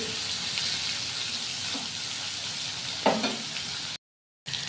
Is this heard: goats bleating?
no